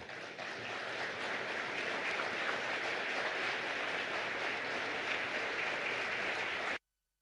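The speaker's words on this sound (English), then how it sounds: "applause as they take their leave" Audience applause at a joint press briefing between the Indian and Japanese prime ministers as the dignitaries leave, a dense steady wash of clapping from a large crowd held for several seconds before cutting off abruptly.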